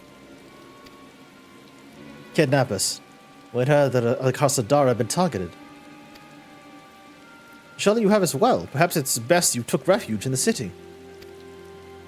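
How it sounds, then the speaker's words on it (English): Rain falls steadily in the Final Fantasy XIV video game, a soft continuous patter running the whole time beneath spoken character dialogue. "Of course it starts raining now."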